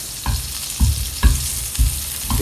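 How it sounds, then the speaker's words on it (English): Loud sizzling and crackling of chili flakes in a hot frying pan, with rhythmic thuds from stirring or tossing every half second or so. "Get that nice sizzle."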